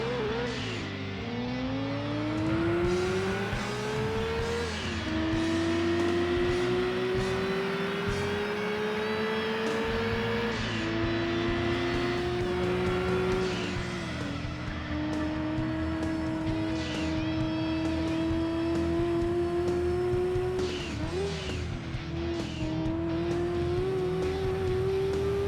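Mazda RX-7 race cars in a one-make event at Apricot Hill Speedway in Gran Turismo 2, engines revving and rising through gears in steady sweeps with brief dips at shifts, loud and continuous throughout.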